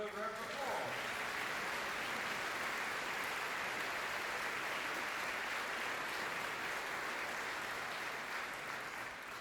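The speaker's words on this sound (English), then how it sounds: "can we give Matthew Bennett another round of applause?" A Christmas concert audience at the University of Huddersfield breaks into sustained applause, a dense, even wash of clapping from a large crowd that holds steady throughout, with a brief voice at the very start.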